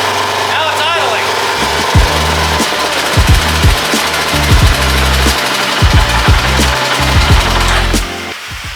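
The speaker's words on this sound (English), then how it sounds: "Now it's idling." A worn Suzuki DR-Z 400 motorcycle with carburetor trouble idles loudly up close, its single-cylinder engine thumping in an uneven, lumpy rhythm before cutting out near the end, with a voice speaking over it.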